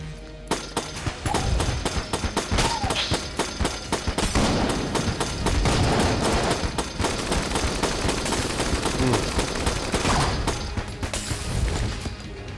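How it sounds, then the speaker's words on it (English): A microtransaction gun fires rapidly in Enter the Gungeon on Nintendo Switch: dense, continuous machine-gun-like shots with crashing impacts, loud and sustained throughout, with no voices. "And I'm going to try out this microtransaction gun."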